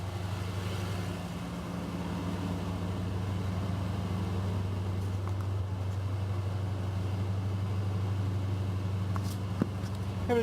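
A car engine idles steadily with its revs held up by a wedged piece of cardboard during an alternator voltage regulator job, a low continuous drone heard close, with a faint click near the end.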